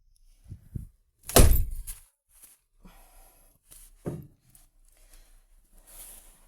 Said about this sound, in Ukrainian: Не ламайте мені двері.